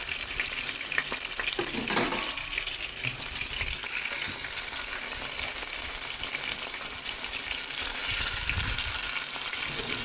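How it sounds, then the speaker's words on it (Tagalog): Boneless milkfish (bangus) coated in turmeric powder frying in hot oil, a steady loud sizzle and crackle that continues throughout, with occasional stirring noises and no talking. "Another prito lang naman tayo."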